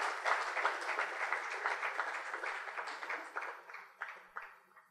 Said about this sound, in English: I think that really deserves a big round of applause.